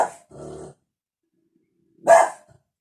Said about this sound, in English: That's our dog. He just want to join in as well.